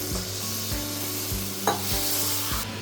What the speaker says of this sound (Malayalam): നല്ലപോലെ ഇളക്കി കൊടുക്കുക